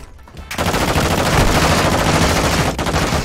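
Sustained rapid gunfire rattling against a riot shield in Modern Warfare 2, a dense continuous burst of shots lasting a few seconds with no talk over it.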